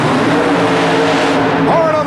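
Supercharged Chevy-powered super modified mud racing car at a 1991 Worcester, Massachusetts event, engine roaring loud and steady for two seconds, pitch dipping then climbing near the end, with an announcer talking over it.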